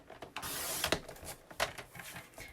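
A paper trimmer slices through cardstock. A blade slides along its rail with a close, scraping swish, then a few clicks and creaks as the mechanism is handled.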